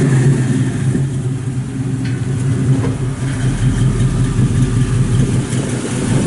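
A 1955 Chevrolet Bel Air two-door post with dual exhausts runs steadily close by, a deep, loud, even rumble with no talking over it.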